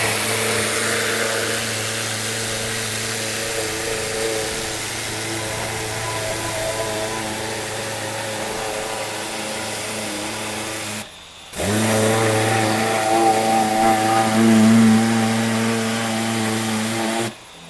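A pressure washer nozzle sprays water inside a car's dirty wheel arches, a steady loud hissing roar with a pump hum beneath, broken by one short pause before the spray resumes.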